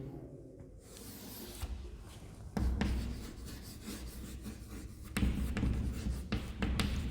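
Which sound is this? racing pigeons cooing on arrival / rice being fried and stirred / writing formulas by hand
writing formulas by hand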